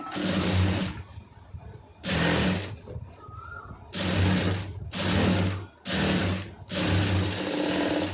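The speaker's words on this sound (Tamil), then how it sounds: "மடித்து ஒரு படிமான தையல் போட்டுருங்க." A sewing machine runs in repeated bursts while stitching a folded blouse hem, each loud steady whir lasting about a second and separated by short pauses, close up and alone.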